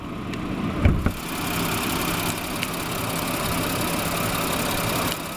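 A 2022 Nissan Pathfinder's 3.5-liter direct-injection V6 running steadily at a smooth idle, close and even, with a couple of brief knocks near the start.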